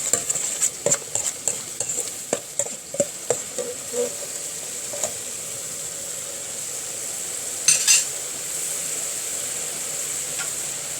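Beef is stir-fried with green curry paste in a pan under a soft sizzle, with repeated scraping spatula strokes in an uneven rhythm and a brief louder clatter near the end.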